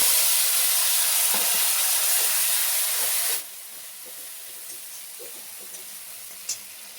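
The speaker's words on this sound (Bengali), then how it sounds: "এবার মশলাটা দিয়ে দেব।" Spice paste of ginger, cumin, coriander, green chilli, cashew and a few raisins hits hot oil with a loud, dense sizzle for about three seconds, then settles into a softer, steady frying hiss with occasional small pops.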